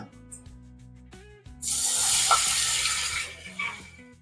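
Water is poured into a pan on the stove holding ghee and milk for modak dough, making a sudden, loud, rushing splash-hiss that lasts about two seconds and then fades. Quieter kitchen sounds come before and after.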